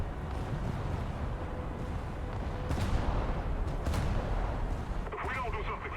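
Rumbling 5-inch naval cannon fire in a warship video game, dense booming blasts layered over a constant roar of battle, with a couple of sharper bursts standing out and game voices talking underneath.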